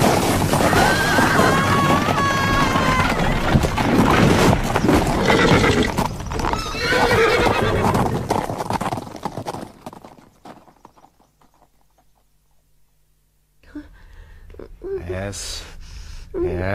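Grey horses pulling a carriage gallop with rapid hoofbeats and loud neighs amid gasps and shouting voices, then fade to near silence before noise returns.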